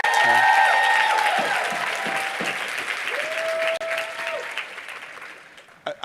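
Audience applause for a singer fills the room, a dense steady clapping that starts loud and gradually thins out, with a few sustained musical tones and crowd noise underneath.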